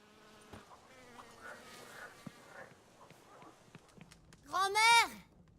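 Wasp buzzing in The Witcher III video game, faint insect whine under quiet game ambience and talk, then a loud, close, rising buzz near the end.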